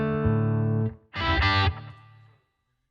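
Electric guitar played through a St James Blackstar amp with crunchy distortion, loud chords ringing out, a brief pause, then a bright distorted burst that decays into silence before a final short attack.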